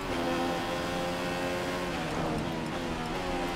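Racing car engine in the F1 2015 video game at Spa, Belgium, a continuous loud high-pitched whine with shifting harmonics and a rise in pitch near the end, with no talk over it.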